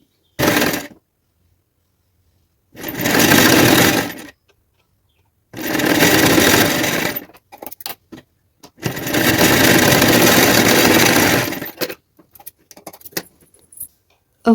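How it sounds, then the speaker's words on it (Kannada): A sewing machine stitches a blouse fabric strip folded to the center, leaving about a quarter inch: close, loud runs of rapid needle chatter come in four bursts, with quiet pauses and small handling clicks between them. "ಇಲ್ಲಿಂದ ಇಲ್ಲಿ ತನಕ ಕ್ರಾ ಒಂದು ಕಾಲು ಇಂಚ್ ಬಿಟ್ಟು ನಾನು ಸ್ಟಿಚ್ನ ಹಾಕ್ತೀನಿ"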